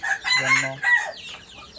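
Local desi chickens on a farm in Bangladesh give a close, loud rooster-like crowing call followed by softer clucking, with no talk.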